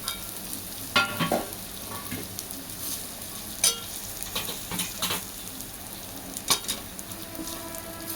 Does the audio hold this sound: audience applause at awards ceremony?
no